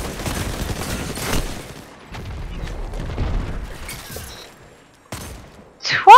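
Rapid bursts of gunfire in the video game Destiny 2, close and punchy, with scattered booms and crashes between volleys and a sharp electronic chirp at the end.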